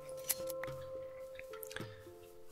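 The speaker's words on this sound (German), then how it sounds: "ich wusste gar nicht, dass die Schere so coole Geräusche macht" Metal scissors shear sheep in Minecraft, giving a few sharp snips set against soft game background tones, with no talking.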